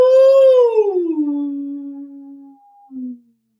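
A voice imitates a whale call with a long, clear hoot that starts high and slides slowly down, then holds low. A brief low echo of the tone follows, close and alone with no background noise.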